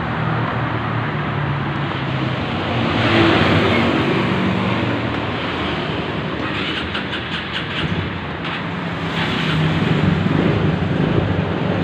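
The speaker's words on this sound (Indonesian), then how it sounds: "Starter hidup." A 2010 Suzuki Spin scooter engine runs steadily throughout, a loud continuous near drone with a slight rise in revs partway, heard alone without talk.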